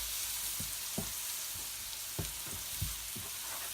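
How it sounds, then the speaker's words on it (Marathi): Chilli garlic pickle fries in a pan with a faint, continuous sizzle, broken by soft scraping stirs at irregular intervals, heard close with no talking. "आता हे चांगलं फ्राय करून घेऊया।"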